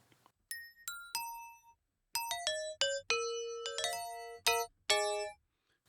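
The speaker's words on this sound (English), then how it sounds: "So, for example, some bells or something it seems to be." A bell sample played in the Bitwig software sounds a melodic run of clear, struck bell notes. Each note rings out and decays, with short gaps between phrases. The notes are close and clean, with no voices.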